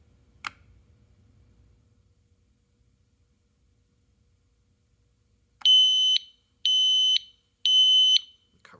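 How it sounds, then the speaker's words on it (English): DFGJLVF interconnected wireless smoke detectors in test mode give three loud, shrill, evenly spaced beeps after a near-silent pause and a single sharp click. "we'll see if all the other ones react and make the beeping sound like this one did"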